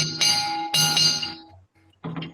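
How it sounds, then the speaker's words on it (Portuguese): An old railway station shunting bell is struck three times, each loud, close clang ringing out bright and metallic before fading, with a short pause before the last strike. "A gente tem uma coisa interessante aqui, que é um sino de manobra, que a criançada adora."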